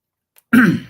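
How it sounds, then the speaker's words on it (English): A single close throat clearing, loud and abrupt after a moment of near silence, trailing off at the end. "I noticed I clear my throat an awful lot"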